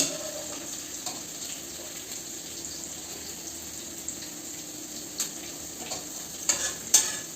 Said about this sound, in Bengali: এই ক্যাপসিকামটা ভাজা হয়ে গেল